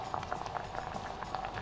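Water boils in a pot for cooking tridal, a close, steady bubbling with rapid little pops and gurgles throughout.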